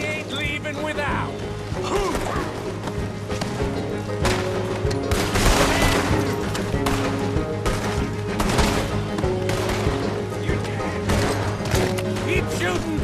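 Sustained gunfire in Red Dead Redemption 2, with rapid shots and crashing impacts layered over a steady musical score, busy and loud throughout the thirteen-second stretch.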